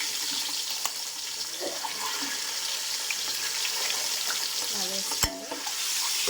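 Eggs seasoned with salt and turmeric frying in a pan, giving a steady close sizzle with light scraping stirs and one sharp clunk near the end, no speech.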